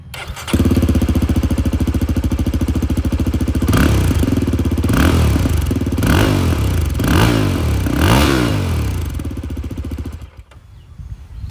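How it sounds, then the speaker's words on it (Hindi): A 2026 Yezdi Scrambler motorcycle with a single exhaust starts up and idles with a close, thumping beat, is blipped through five quick rising revs, then shuts off. "एग्जॉस्ट साउंड जो है वो आप लोग सुन लीजिए।"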